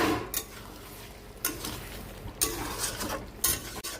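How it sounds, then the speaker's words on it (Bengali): A spoon scrapes and clinks now and then against a pot of ridge gourd and potato curry, with a soft simmering sizzle underneath. "একটু নেড়ে দিই"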